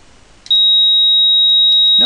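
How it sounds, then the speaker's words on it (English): A steady, piercing 3800 Hz square-wave tone from an ExpEYES electronics kit switches on abruptly and holds at a constant pitch, loud and close, with faint background hiss and a voice starting at the end. "apply a square, generate a square wave here"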